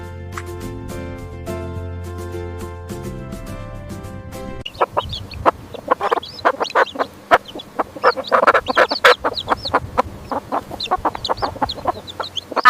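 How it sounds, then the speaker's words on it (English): Hen clucking in quick irregular bursts, close and fairly loud, entering after a few seconds of steady musical tones. "H for hen."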